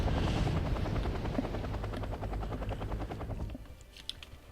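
A helicopter in the video game Wargame AirLand Battle, a Cav Scout carrying recon infantry, gives a steady rapid rotor chop over a low engine rumble for several seconds, then fades and thins toward the end.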